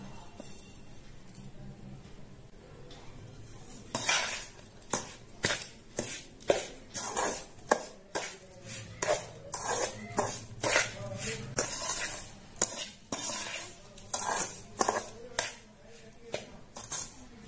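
A spoon scrapes and taps repeatedly against a pan while ground idli podi powder with sesame is mixed, a steady series of close metallic clinks and scrapes for most of the clip without speech.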